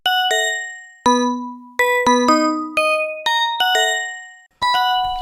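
A bright FM synth arpeggiator plays bell-like plucked tones in a lilting, uneven swung rhythm, each note decaying quickly, clean and alone.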